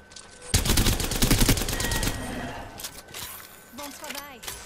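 Rapid automatic gunfire with heavy recoil in a shooter video game, loud dense bursts up front that taper into scattered shots, with people talking over and after the firing.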